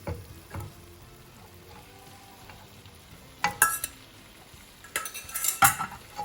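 Noodles tossed in a pan with mushrooms: a soft sizzle, then sharp clattering bursts of a utensil scraping and knocking the pan around the middle and again near the end.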